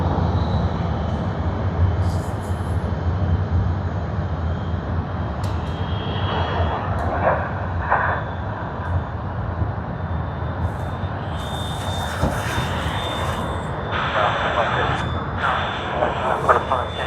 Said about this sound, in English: that was a beautiful aircraft, and it's quite new